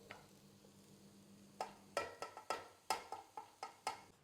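Masala stirred into frying onions in a pan, soft sizzling underneath a series of sharp spoon scrapes and clinks against the pan in a quick irregular rhythm, close and fairly quiet.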